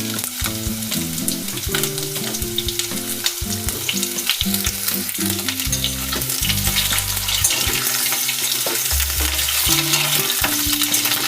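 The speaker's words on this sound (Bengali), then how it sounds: "উচ্ছেটা ভালো করে ভেজে নিচ্ছি।" Long strips of bitter gourd fry in a pan with already-browned potatoes, giving a steady, close sizzle with occasional stirring scrapes throughout, while music plays underneath.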